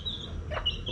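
A chicken gives a brief, close cluck or two against a quiet outdoor background.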